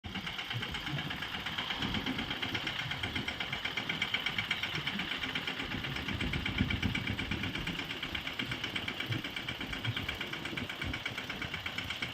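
A tractor engine runs steadily during sowing in a field, with a continuous rapid chugging throb that holds loud and even throughout.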